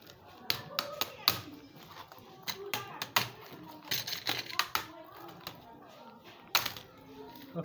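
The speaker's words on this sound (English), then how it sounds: "pull the keyboard out" Plastic clicks, snaps and taps ring out irregularly as a Lenovo ideapad 110 laptop keyboard is pulled out of its casing, close and fairly sharp, with a person speaking at times.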